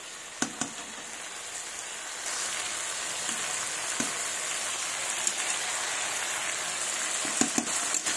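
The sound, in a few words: spices frying with spinach and fish curry in pan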